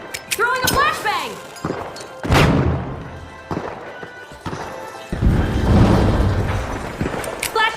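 A flashbang thrown in The Finals lands with heavy thuds and a sharp bang amid chaotic combat noise, followed by a ringing, sustained roar; game voices call out over the din.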